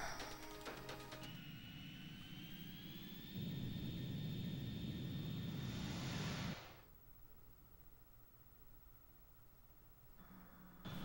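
Jet aircraft engine from the video game Ace Combat 2, a steady loud roar with a rising whine that swells, surges for a few seconds, then drops to a quieter drone, no talk.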